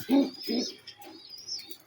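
A young blue pigeon, caught only the day before with its wings still unclipped, gives two low, close coos in quick succession, followed by fainter soft chirps.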